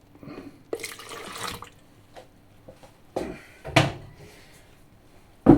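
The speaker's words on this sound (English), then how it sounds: "add a small amount of the pasteurised milk in there. Into each container." Pasteurised milk is poured in small amounts into several yogurt containers, heard as a few short, close liquid splashes and trickles separated by quiet gaps and light handling knocks.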